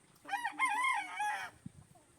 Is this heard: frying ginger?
no